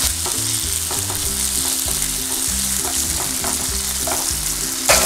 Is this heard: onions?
yes